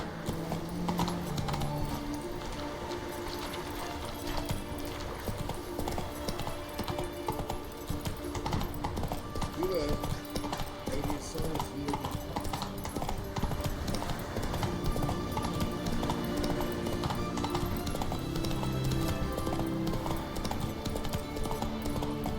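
Roach, the horse in The Witcher 3 video game, trots with steady rhythmic hoof clip-clops that continue throughout, moderately loud under game music and ambience, with faint voices at times.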